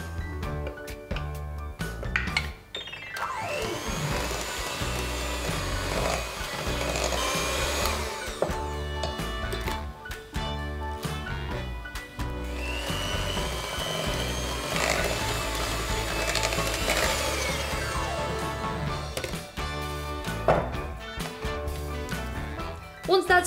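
An electric mixer beats dry ingredients into cake batter for a s'mores cake, giving a steady whirring drone with clinks against the bowl that swells and eases in two long passes, fairly quiet.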